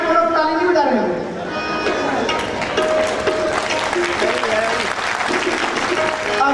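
An audience at a Bhagavat Katha religious discourse claps steadily and fairly loudly for several seconds, with voices and some musical tones running underneath the applause.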